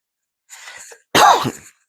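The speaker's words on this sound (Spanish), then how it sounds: "Discúlpenme por la tos que tengo." A close, raspy cough: a soft breathy rasp followed by one strong hacking cough, then quiet.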